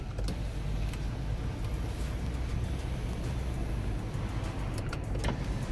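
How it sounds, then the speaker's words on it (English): A steady low car-interior rumble and whirring motor hum as power windows lower, with a few faint clicks near the end. "we're going to get the windows down"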